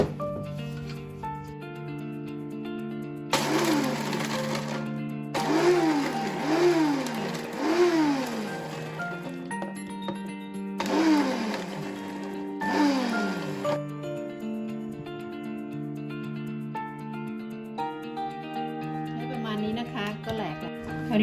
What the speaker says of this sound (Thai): เริ่มจากการนำถั่วลงไปปั่นก่อนนะคะ ไปบดให้เขาแหลกค่ะ